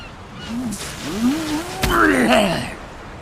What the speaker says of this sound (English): the seagulls are everywhere